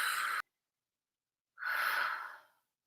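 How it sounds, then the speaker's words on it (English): A single deep yoga breath, one long airy exhale rising after a pause of silence, close and fairly loud, with the tail of another breath before it. "Take some deep breaths."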